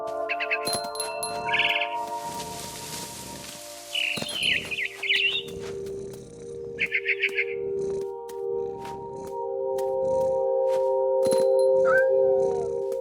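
A cat meows in the video game What Remains of Edith Finch, a short rising cry near the end that follows scattered bird chirps over a steady tonal music bed.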